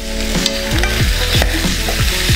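Chicken carcasses sizzle steadily as they brown in a saucepan for ramen broth. The frying is loud and close, with occasional clinks and scrapes from stirring.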